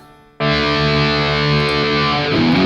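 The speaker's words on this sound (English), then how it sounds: "Phaser flanger." An electric guitar through a phaser-flanger preset on a Headrush Prime kicks in abruptly with a loud, sustained distorted chord whose tone sweeps and swirls, ringing on without talk.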